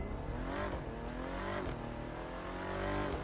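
A Bentley Mulliner Bacalar engine accelerating in the racing video game The Crew 2, a continuous rising engine note with gear-change dips, steady and fairly quiet with no talk.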